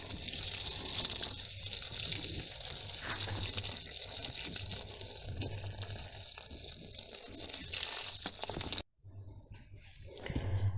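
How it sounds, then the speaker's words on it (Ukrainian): Water pours and splashes steadily onto the soil around a newly planted flower in a garden bed, a close, continuous gush that cuts out briefly and then resumes. "Зараз ми її добренько поліємо."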